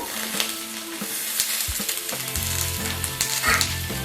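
Vegetables fry in a pan for a cauliflower-stalk chorchori, a loud close sizzle with scraping stirring strokes and a few sharp knocks of the utensil against the pan.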